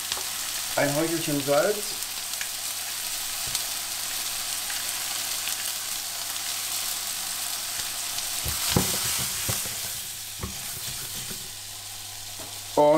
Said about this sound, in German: Und damit braten wir das jetzt alles schön kräftig an.